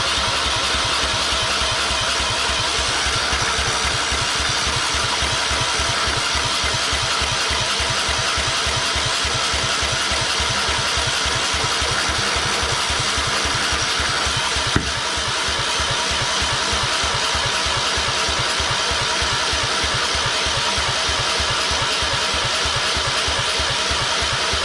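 Briggs & Stratton 20 HP engine on a Craftsman LT2000 lawn tractor being started, a steady loud mechanical chugging and rattling that runs continuously and close up, with no voices over it.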